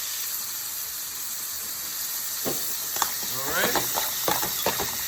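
Steak with peppers and onions sizzles steadily in a pan, a dense continuous frying hiss with bursts of stirring and scraping, while a voice briefly speaks over it.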